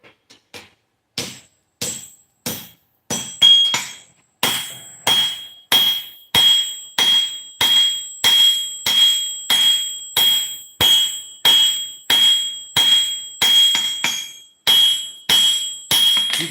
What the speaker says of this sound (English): You can just feel and see how much harder that steel is to work underneath the hammer.